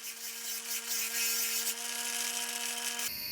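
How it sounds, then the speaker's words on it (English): A grinder with a grinding wheel shaping a brass foot for a business card holder, a steady high-pitched motor whine with grinding hiss, loud and close, cutting off abruptly near the end. "I'm just using the grinder and the grinding wheel to make the foot symmetrical"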